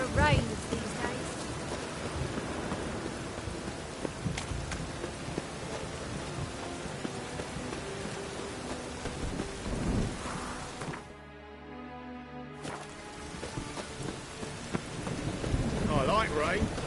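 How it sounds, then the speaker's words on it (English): Steady rain with rumbling thunder in The Witcher 3: Wild Hunt, Heart of Stone expansion, a continuous downpour that briefly drops out mid-way, with a sharp thunder crack near the start and end. "It only ever rains these days."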